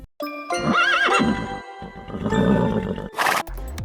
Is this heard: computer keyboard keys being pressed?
no